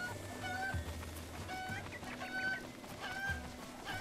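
A cucco chicken in The Legend of Zelda: Breath of the Wild clucks in short repeated bursts over a steady game music and ambient backdrop, moderately quiet, with no talking.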